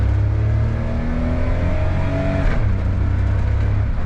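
A Daihatsu Mira's small engine hums steadily while rolling downhill, with a low drone and shifting whine that rises slightly before dropping as the revs change, continuous and close throughout.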